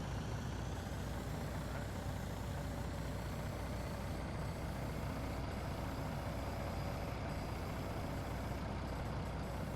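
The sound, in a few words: truck engine idling in video game Farming Simulator 19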